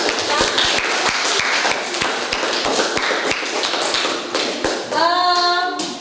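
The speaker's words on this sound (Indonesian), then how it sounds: "sekali lagi kita tepuk tangan untuk semua kelompok" Classroom applause for all the student groups, with distinct, loud rhythmic claps standing out over a busier background patter, ending in a bright ringing tone near the close.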